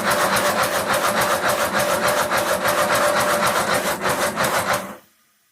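A 5-inch gauge live steam locomotive, Sweetpea, running in reverse gear, giving a fast, even, rhythmic chuffing close by that cuts off abruptly near the end.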